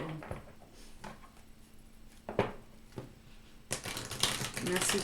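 Tarot cards are shuffled in a few soft bursts, then a longer crisp riffle near the end, close by, with a steady hum underneath.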